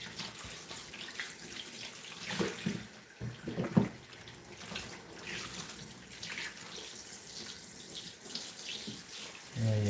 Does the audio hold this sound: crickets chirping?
no